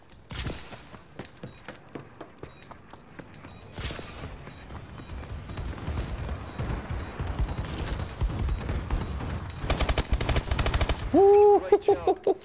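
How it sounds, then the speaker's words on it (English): Gunfire and blasts from a friendly bombing run airstrike in Call of Duty: Advanced Warfare rattle in bursts that grow denser toward the end. A sharp electronic tone sounds at the close. "Friendly bombing run incoming."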